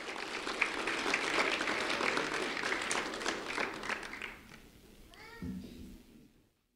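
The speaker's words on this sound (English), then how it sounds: "a round of applause for Nicholas Lotto, please." An audience at a ceremony breaks into sustained applause, dense clapping that gradually thins out and fades, with brief voices as it ends.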